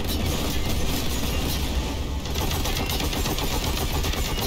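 Continuous dense gunfire from a Warhammer video game, a steady unbroken roar of rapid shots throughout with a brief dip midway.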